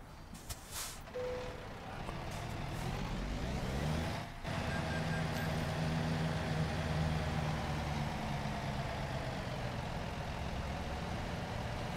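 A Volvo truck engine in American Truck Simulator runs with a low, throaty drone that holds steady through the clip, with a brief air-brake hiss and beeping early on, close and fairly loud, with no talking.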